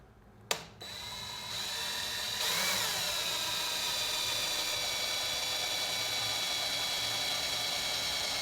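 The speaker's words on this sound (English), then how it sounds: "Now I'm going to use a 3/16 inch drill bit to drill out these holes." A power drill with a 3/16 inch bit spins up loudly after a sharp click, drilling holes in a cooling fan shroud, holding a steady high whine for several seconds, close by with no talking.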